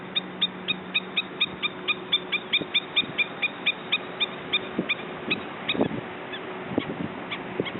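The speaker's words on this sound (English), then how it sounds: "A Hawaiian Stilt Bird." Hawaiian stilt calling repeatedly on Maui, a regular series of sharp, yapping notes in a steady rhythm at moderate distance, with a few louder thumps and background noise later.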